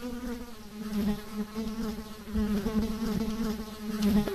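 Steady insect-like fly buzzing from the Spy Chameleon video game, a continuous droning hum with wavering pitch running alone throughout, moderately loud with slight swells.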